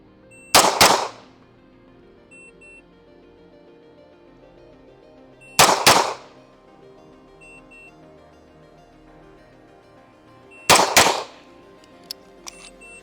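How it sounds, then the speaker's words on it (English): Three loud pistol shots on a live-fire range, each a sharp crack with a short ringing tail, spaced about five seconds apart with quiet between them. "Those were the 3 shots."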